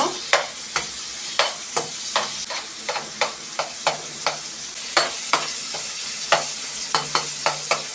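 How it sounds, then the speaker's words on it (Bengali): A spatula scrapes and stirs vegetable peels frying in a pan, sharp regular clacks about twice a second over a continuous soft sizzle, close and alone without speech. "এখন একটু নেড়ে চেড়ে ভালো করে ভেজে নিব।"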